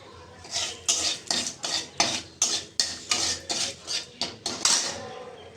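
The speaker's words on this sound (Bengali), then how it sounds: "এটা ভালো করে নেড়ে নিই" Fried potatoes with dry chilli and cumin are stirred in a wok, heard as about a dozen rhythmic, close metallic scrapes of a spatula against the pan with brief pauses between strokes.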